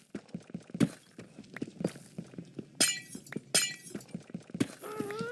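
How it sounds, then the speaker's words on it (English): Glass shatters repeatedly in a video game, with sharp crashing bursts and clinking fragments scattered among rapid rhythmic thuds that sound like footsteps or blows, loud and close. "you don't get glass back when you break the glass"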